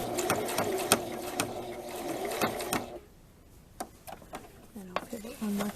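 A sewing machine stitches a small square on an eyelet blouse, running steadily and close for about three seconds with rhythmic needle clatter, then stopping while someone talks over the quieter remainder.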